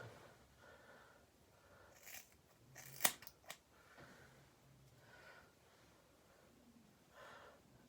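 Scissors trimming hair during a home haircut, a few soft, close snips with one sharper cut, and quiet breathing between them in a hushed room.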